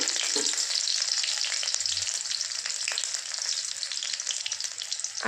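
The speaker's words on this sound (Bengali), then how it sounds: "এবার তেলটা গরম হয়ে গিয়েছে, এতে একে একে দিয়ে দিচ্ছি কাঁচা লঙ্কা," Green chillies hitting hot pure mustard oil in a pan give a loud, steady, close sizzle that crackles evenly throughout, with no voices.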